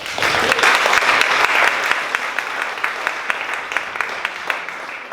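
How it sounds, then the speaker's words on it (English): An audience at an education summit talk in Boston applauds warmly, dense clapping at first that thins into scattered individual claps as it winds down over several seconds. "Let's give Dan a round of applause."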